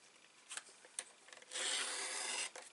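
A paper trimmer blade slides through cardstock in one steady rasping cut lasting about a second, preceded by a few short scraping clicks as the sheet is positioned, close and fairly quiet.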